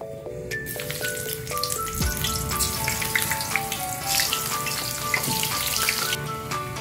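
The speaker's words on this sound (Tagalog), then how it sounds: "prito tayo ng talong." Eggplant frying in hot oil, a steady crackling sizzle with bright spattering pops throughout, fairly close and with no talking.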